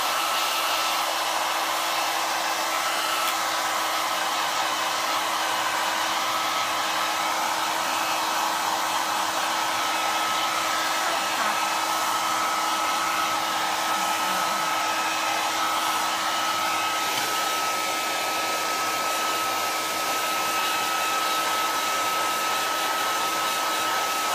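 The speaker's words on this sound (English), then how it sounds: "we're going to take a blow dryer so we can blow dry it" A handheld blow dryer drying a simple craft project runs as a steady, continuous whoosh with a faint whine, close and unbroken for the whole stretch, with no talking.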